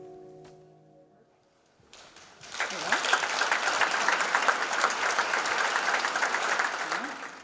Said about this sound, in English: Let's give another round of applause as she makes her way to the stage to Barbara.